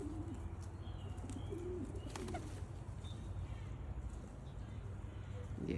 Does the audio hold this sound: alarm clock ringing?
no